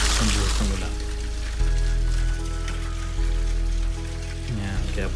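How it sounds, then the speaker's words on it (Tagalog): Heavy rain pours steadily over a tomato and squash garden in the Philippines, a continuous wash of water noise close by, with a low broadband rumble and faint tonal sounds in the background. "Ang lakas ng buhos ng ulan."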